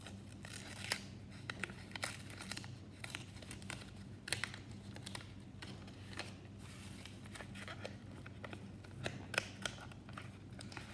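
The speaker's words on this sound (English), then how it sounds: "you can rip the paper because you don't need the paper anymore" Paper being ripped away from a string art board with pins, giving a series of crisp tearing and crinkling bursts close by with short pauses between them and no talking.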